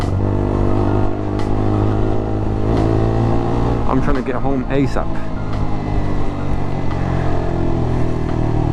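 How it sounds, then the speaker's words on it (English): Road traffic and engine hum fill the inside of a car stuck in a queue on a diverted route, a loud steady drone from start to finish while someone talks over it. "Waiting in that traffic, sunshine."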